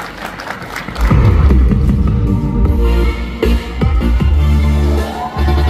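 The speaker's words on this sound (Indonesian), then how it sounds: "Kita berikan aplaus." Audience applause for Gibran Rakabuming Raka at a talk show before university students in Solo, a loud, dense wash of clapping and crowd noise that swells after a quieter start and carries on steadily to the end.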